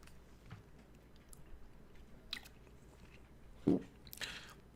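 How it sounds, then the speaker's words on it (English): A person chewing food in a quiet room, with a few soft, scattered bites and crunchy mouth sounds over a low background hiss, one louder crunch standing out near the end. "hold on, I'm chewing."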